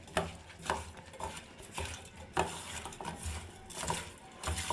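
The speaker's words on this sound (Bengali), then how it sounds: "আমি নুন হলুদ মাখিয়ে নেব। দিয়ে দিচ্ছি পরিমাণ মতো নুন, হলুদ। এবার এটা খুব ভালোভাবে আমি মাখিয়ে নেব।" Fresh fish pieces mixed by hand with salt and turmeric in a bowl, producing soft wet squelching and rhythmic stirring with occasional clinks against the dish, close and fairly quiet.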